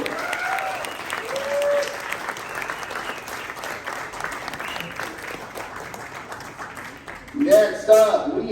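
Audience applause welcoming a candidate to the stage at a GOP California governor candidates event in Laguna Hills, moderate steady clapping from a crowd with a voice briefly speaking near the end.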